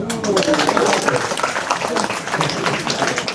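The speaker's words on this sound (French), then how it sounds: "on peut l'applaudir très fort, très fort" Audience applause after a card trick at a magic show, a dense, sustained burst of many hands clapping, loud and close, with people talking over it.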